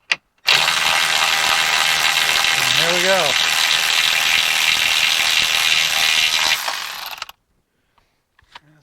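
A ratchet wrench works a bolt through on a 1970 Rover P6 3500 De Dion rear suspension link, giving a continuous rapid clicking buzz for several seconds that then stops, with a brief voice partway through.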